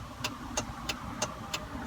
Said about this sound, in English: Here come the tow truck. We got a flatbed too.